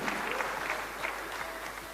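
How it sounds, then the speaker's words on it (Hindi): Audience applause at a Hindi business talk, a sustained patter of many hands clapping at moderate volume through the short moment. "आपकी तालियां खुद ब खुद बज रही हैं"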